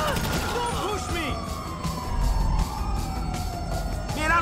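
An ambulance siren wails in the video game GTA 5, its tone sweeping up and down steadily amid game action and rumbling traffic noise.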